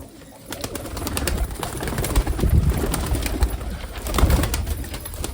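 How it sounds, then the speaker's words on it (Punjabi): Breeder pigeons in a loft coo softly and repeatedly, several birds overlapping in a low, steady murmur heard up close with no talking. "ਜਿਹੜੇ ਮੇਨ ਬਰੀਡਰ ਕਬੂਤਰ ਆ ਸਾਡੇ ਉਹਨਾਂ ਦੀ ਵੀਡੀਓ ਤੁਹਾਨੂੰ ਵਿਖਾਉਣ ਲੱਗੇ ਆ"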